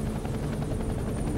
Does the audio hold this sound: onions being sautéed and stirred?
no